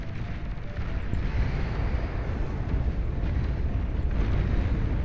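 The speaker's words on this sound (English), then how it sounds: "Missiles launched away over and over again." Missiles explode over and over in a video game battle, making a dense, continuous booming rumble that builds steadily and never drops into distinct gaps.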